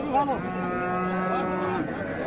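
A cow lets out a long, loud, close moo at a crowded rural cattle market where Deshal and Sahiwal cows with calves are sold, with faint crowd noise underneath.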